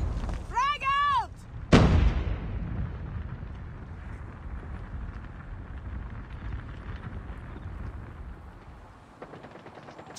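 A frag grenade explodes in the Call of Duty Mobile video game: one loud, sharp blast follows a brief shouted voice, then a long rumbling decay and background battle noise.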